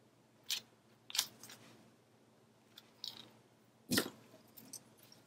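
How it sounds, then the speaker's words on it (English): Scissors trimming a piece of cardstock for a craft page, a few separate crisp snips spaced irregularly, close and quiet with no talking. "We still need to trim this down."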